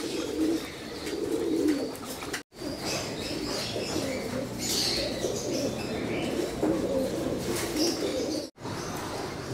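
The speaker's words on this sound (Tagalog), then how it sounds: "Ito na nga yung mga kalapati ko," Pigeons in an aviary coo steadily and close, with soft chirps and an occasional flutter of wings over a constant outdoor hum.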